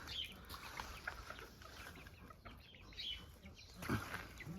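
Ornamental chickens in a garden give soft, scattered clucks, faint and somewhat distant amid quiet outdoor ambience, with one brief louder cluck near the end.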